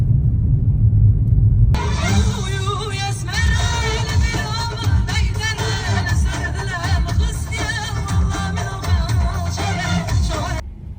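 A car on a road in eastern Turkey, with a steady low engine rumble that swells and holds close for several seconds under a busy, clattering background.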